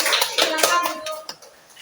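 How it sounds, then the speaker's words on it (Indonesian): A classroom group claps for a team of students in an adult equivalency class, a brief burst of scattered, overlapping hand claps that fades out quickly. "Berikan tepuk tangan untuk kelompok 3 yang sudah duduk"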